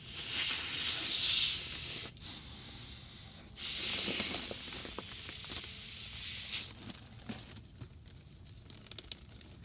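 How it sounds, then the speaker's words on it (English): A bison cecum being inflated like a bag as a primitive soccer ball gives two loud rushing hissing bursts of air with crinkling, separated by a short pause, then softer rustles and small crackles, close up and without talking. "You can clearly hear how it inflates like a bag."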